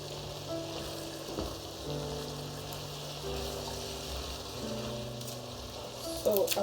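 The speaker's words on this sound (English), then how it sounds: "So we'll stir everything together." A pot of vegetable stew with curry powder and red and yellow peppers sizzles steadily while being stirred, with a louder scrape or clatter near the end.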